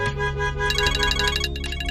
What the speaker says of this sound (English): your phone's going to ring as well